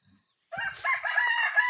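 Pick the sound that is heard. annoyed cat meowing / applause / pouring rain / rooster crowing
rooster crowing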